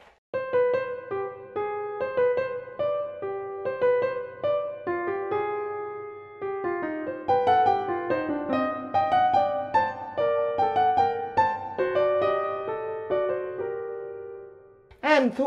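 Solo piano plays a fugue with the returning subject voiced more strongly than the countersubject, steady interweaving lines running continuously and clearly, close and alone.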